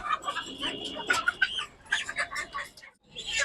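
Chickens cluck and squawk close by in short bursts, with voices talking underneath amid a busy, bustling background.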